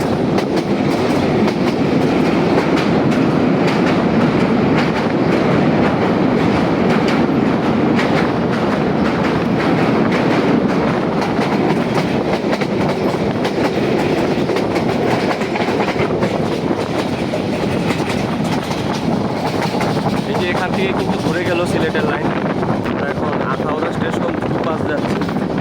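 The Porjotok Express runs on dual gauge track between Dhaka and Cox's Bazar, its loud, continuous rumble and rail clatter filling the cabin with wind noise, while voices talk underneath.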